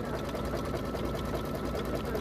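A sewing machine runs a zigzag stitch on a fall mug rug, a steady, fast mechanical chatter that stays loud and close throughout without pause.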